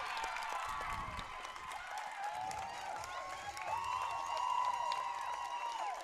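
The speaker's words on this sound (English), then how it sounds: "And the crowd is pumped about that one." Crowd cheering and clapping after a try at a women's university rugby match, Gee-Gees vs. Laval, a moderate, distant swell of applause and whistles with no talk over it.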